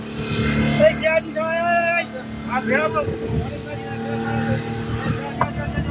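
Civil defence speed boat engine running during testing, a steady low droning hum held throughout, close by, with people talking loudly over it.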